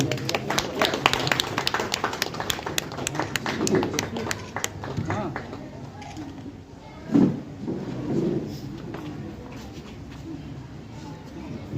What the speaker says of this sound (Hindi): समस्त के ताली